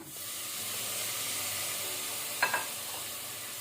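Dry masala spices frying in a pan on low flame for Kali Masoor dal tadka, giving a steady soft sizzle and hiss with a couple of brief clinks of stirring.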